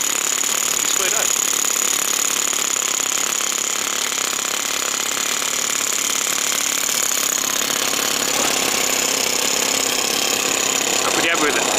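A four-stroke engine converted into a Mercedes-Benz RC truck runs with a loud, steady, rattling buzz that holds throughout, with faint brief sounds over it.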